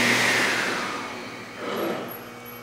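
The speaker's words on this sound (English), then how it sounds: "The little bit of slip you heard is because there's no blade on the scoring unit, and that's the disc spinning" A 2000 Altendorf F45 sliding table saw's motor brakes to a stop, its whine falling away, then the bladeless scoring disc spins with a brief rising whir; close and fairly loud, with no speech.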